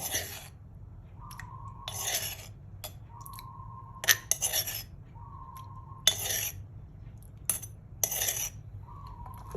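Liquid mixed into a banana-blossom papaya salad in a bowl, producing repeated light clinks and scraping of a utensil against the dish at a quiet level, with occasional sharper knocks and a faint background hum.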